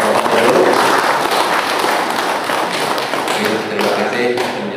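Audience at a talk breaking into dense, steady applause right after the speech ends, many hands clapping together close by at an even level throughout, with a little crowd murmur underneath.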